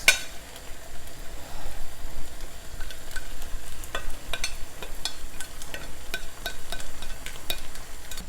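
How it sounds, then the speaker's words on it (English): Grated carrots and cut tomatoes sizzle steadily in a stir-fry pan with chicken ramen noodles and peppers, the close frying hiss broken by scattered crackles and utensil scrapes, no voices. "I'm going to add the carrots, the grated carrots, and the cut tomatoes."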